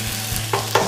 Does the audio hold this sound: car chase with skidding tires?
no